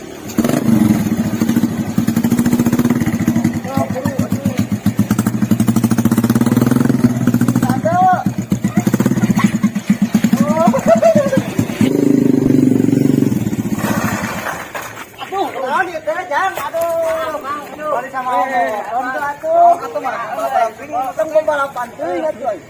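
A motorcycle engine runs loud and steady for about fourteen seconds, a rough low drone, then drops away as several people talk over it.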